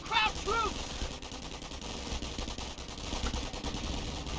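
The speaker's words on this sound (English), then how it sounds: "Rifleman receiving quite a bit of fire right there." Rifle and machine-gun fire in the Company of Heroes 1 strategy game crackles steadily in the mid-distance, with dense, uneven bursts running throughout the whole stretch.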